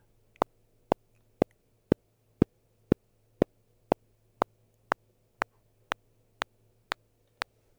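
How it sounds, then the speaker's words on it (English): A pulsar synthesizer emits a pulsar train at 2 hertz: sharp, evenly spaced clicks, two per second, about fifteen in all, dry and isolated against a faint low hum. "That's 2 times per second we are hearing a pulsar"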